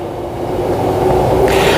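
A train pulls away from a station on a Perth suburban line, a steady loud rolling rumble with a rising hum that builds over a couple of seconds, heard alone.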